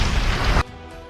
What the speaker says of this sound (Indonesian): area sekitar mereka pun meledak